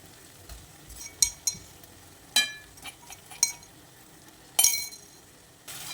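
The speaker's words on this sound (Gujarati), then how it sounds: "બધા મસાલાને સરસ મિક્સ કરી દઈએ" A spoon stirs garlic and green chili paste into fried onions and tomatoes in a pan, giving scattered sharp clinks and scrapes at irregular intervals over a quiet, faint sizzle, with no talking.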